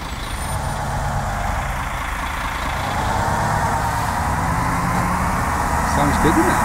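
A coach bus engine idles in the Fernbus Simulator game, a continuous loud diesel rumble that swells slightly near the end, with someone talking over it.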